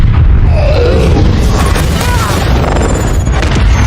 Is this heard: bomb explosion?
yes